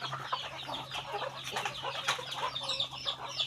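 Chickens clucking continuously in a farmyard, a busy overlapping chorus of short clucks and chirps at moderate distance with a steady low hum underneath.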